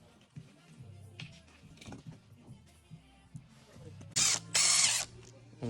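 A power drill briefly whirs as it drives a black self-tapping screw into drywall, with two short loud bursts near the end after quieter handling clicks and knocks.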